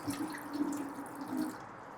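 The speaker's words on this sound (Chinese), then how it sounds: "然后把这个水倒掉" Rinse water from washed rice poured out of a pot into a sink, a steady close splashing trickle with small drips that fades out near the end.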